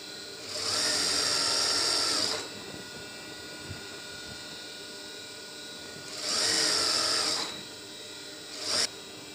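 A sewing machine stitches a trouser in two sustained whirring runs separated by a quieter pause, then a brief final burst. Nobody talks over it.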